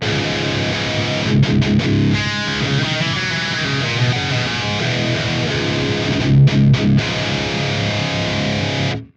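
Distorted ESP LTD SC-20 electric guitar through an Axe-Fx III, stereo effect off, plays steady chords with a drier, narrower tone, continuous and loud with brief choppy strums near the start and middle.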